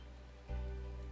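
Rain falls during nighttime in Minecraft, a steady soft hiss that swells suddenly partway through and then holds as a dense, even wash with no talk.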